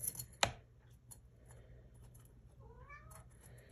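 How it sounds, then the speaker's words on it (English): A pet cat meows in the background: a short, faint upward-sliding meow near the end, preceded by a sharp click and quiet room sounds. "Hear my kitty in the background."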